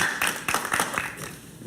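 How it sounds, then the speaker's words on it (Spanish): Studio audience on a talk show claps for an arriving guest: a short, fairly quiet burst of evenly spaced claps that tapers off after about a second. "Un aplauso para él, por favor."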